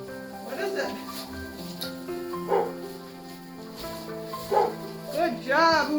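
Farm dog outdoors in -20 °F cold barking at something in the distance, a few scattered sharp barks and yips while a person talks over them.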